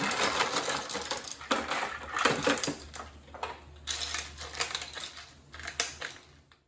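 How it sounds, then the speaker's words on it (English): Ice poured and spread by hand over sliced cucumbers on a kitchen counter for bread and butter pickles, giving a loud, busy run of clattering, crunching cube knocks in irregular bursts, with no talk. "I'm now putting the ice on the cucumbers"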